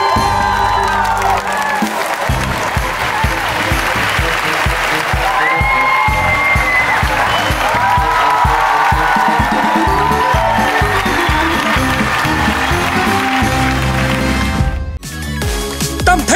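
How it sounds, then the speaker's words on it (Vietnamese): A theater audience at a Vietnamese comedy show applauds the performers in loud, sustained clapping for about fifteen seconds, with some cheering, before it cuts off abruptly. "Vỗ tay thật nồng nhiệt cho các nghệ sĩ của chúng ta."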